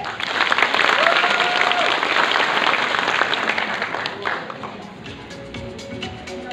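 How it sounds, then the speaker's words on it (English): Audience applause at a university Mr. and Miss Freshers crowning ceremony at Nagaland University, a dense steady clapping that fills the hall, with a few voices and cheers mixed in before it thins out near the end. "Shall we all give a huge round of applause?"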